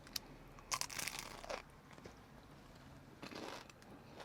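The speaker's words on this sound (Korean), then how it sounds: "페이스트리 엄청 바삭하고 맛있거든요" Crunchy bites into a crisp, flaky cream-filled pastry: a cluster of sharp crackling crunches, then a pause and another crisp bite, close to the mic and fairly quiet.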